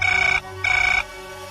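A telephone rings with an incoming call in two loud bursts of electronic trilling separated by a short pause, heard alone with no talking.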